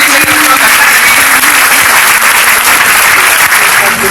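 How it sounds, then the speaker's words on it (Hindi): Loud, steady applause from an audience at a lecture fills the whole stretch, continuous and unbroken, with no pause or fade. "शानदार तालियां लोगों से"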